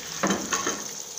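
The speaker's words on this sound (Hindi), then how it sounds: "इसकी अच्छी तरह करेंगे भुनाई।" Tomatoes with turmeric, red chili powder and green chilies frying in a pan for a mixed vegetable curry, a soft steady sizzle with a couple of brief stirring scrapes, close and fairly quiet.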